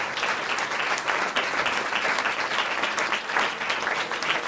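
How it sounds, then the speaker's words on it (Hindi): Loud, sustained applause from a church congregation during a Hindi Christmas sermon, a dense steady wash of clapping filling the whole stretch with no speech over it. "जोरदार ताली बजाकर दूसरे को"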